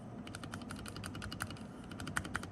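Rapid keystrokes on a TOFU65 keyboard with lubed Cherry MX Blue switches, a steady stream of soft clacks with a few louder presses, close up with no talking.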